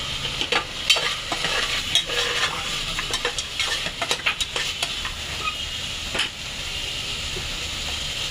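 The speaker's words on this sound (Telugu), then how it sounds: "ఒకసారి కలుపుకుందాం" A spoon stirs tiger prawn biryani in a pot over sizzling heat. Irregular scraping knocks sound over a steady frying hiss, close and clear, with no voices.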